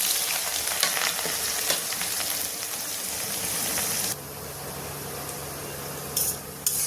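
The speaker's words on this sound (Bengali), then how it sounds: "তেল আমার গরম হয়ে গেছে পুরো। আর এখানে কেটে রাখা পেঁয়াজ দিয়ে দিচ্ছি।" Chopped onions dropped into hot oil with garam masala, frying with a loud steady sizzle that drops sharply after a few seconds and settles into a quieter hiss, with a brief stir near the end.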